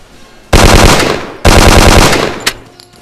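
Two long, loud bursts of rapid automatic gunfire from the video game Hidden and Dangerous 2, with a short gap between them, followed by a single sharper shot and fading echoes.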